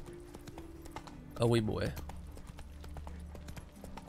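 Horse hooves clip-clop in The Witcher 3 as a mount starts moving, a short burst of steady hoofbeats rising briefly over background game ambience, with a voice speaking alongside.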